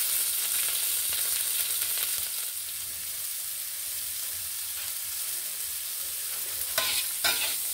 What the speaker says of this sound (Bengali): এবার দিয়ে দেবো আমি ফোড়নে একটু জিরে, গোটা জিরে। তারপরে দিচ্ছি কাঁচা লঙ্কা।